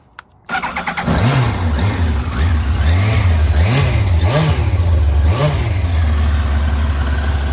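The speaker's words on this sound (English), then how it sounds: "So, if I start it up," A Yamaha R1 sport bike fitted with a race can exhaust fires up after a brief click, then settles into a steady, close idle with several rhythmic blips of revving.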